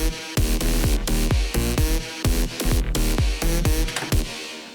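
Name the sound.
electronic music mix of kick and lead synth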